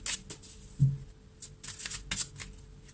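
Tarot cards being shuffled and drawn, with quick papery riffles and flicks in short bursts, close and fairly quiet, with no talking.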